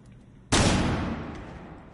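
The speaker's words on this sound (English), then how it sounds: "Flashbang out." A flashbang grenade detonates in a video game with a single sudden loud bang that cuts in sharply, then decays slowly into a ringing wash over the following second and more.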